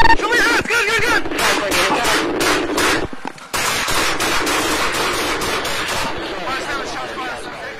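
Police gunfire in a South Sacramento backyard: a loud, rapid run of sharp shots with a brief break before the firing resumes.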